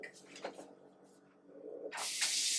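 Tap water streams into an ice cube tray holding cranberries, starting about two seconds in as a loud, steady hissing pour after a few quieter handling sounds.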